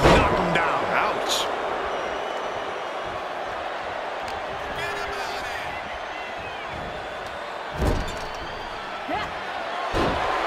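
At a live pro wrestling show, a wrestler is slammed onto the ring mat, giving several sharp thuds across the stretch with a crowd murmuring behind and a commentator talking over it.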